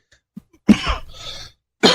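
A single harsh cough bursts out close by, followed by a short raspy exhale, with another cough starting at the end after brief silence.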